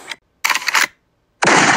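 Gunfire in a Lego Batman animated scene comes as three sharp bursts: a short crack, then a rattling volley of rapid shots, a pause, and a final loud, sustained blast, all close and harsh.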